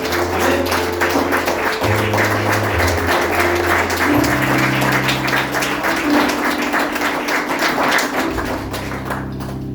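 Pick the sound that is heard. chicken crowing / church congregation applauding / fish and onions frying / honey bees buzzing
church congregation applauding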